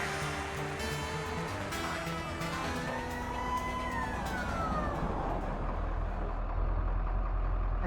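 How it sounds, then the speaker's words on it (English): Sirens wail in the video game Fall of Porcupine, rising and falling over a steady engine-like rumble that builds toward the end. "I heard sirens."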